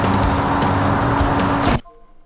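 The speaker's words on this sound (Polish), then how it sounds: "Zobaczymy teraz, jak poradzi sobie ta oto Audi." An Audi driving very fast in BeamNG.drive, a loud continuous roar of engine and rushing road noise that cuts off abruptly near the end, leaving only a faint tonal hum.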